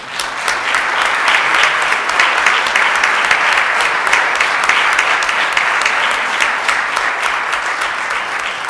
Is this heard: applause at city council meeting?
yes